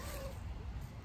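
A Ragdoll cat outdoors gives a single soft, brief meow near the start, quiet against a low background hum.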